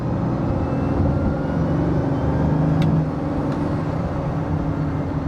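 A Bugatti Veyron's engine drones steadily from inside the cabin, loud and continuous, with a slight swell and drop in tone around the paddle-shifted gear change.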